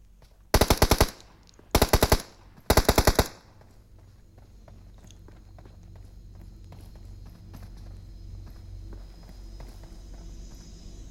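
Three loud bursts of rapid automatic gunfire crack out in quick succession in a video game fight, each lasting about half a second, followed by quieter scattered footsteps and faint background shots.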